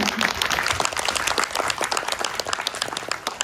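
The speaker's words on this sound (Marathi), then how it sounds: "एकदा जोरदार टाळ्या होऊन जाऊ दे सर्व विद्यार्थ्यांसाठी." An audience gives students enthusiastic applause at a Miracles Academy of Arts drama show in Panvel, a dense burst of many hands clapping at once that stays strong from start to finish.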